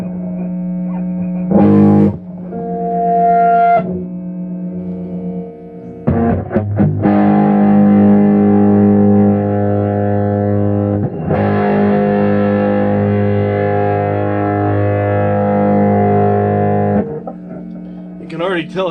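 Heavily distorted electric guitar through an amp, playing sustained power chords and notes with a thick, buzzing tone, loud and close, with brief pauses between phrases.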